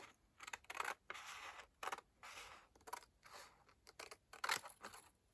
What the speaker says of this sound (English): I'm going to slit in there so I know how far to cut down to.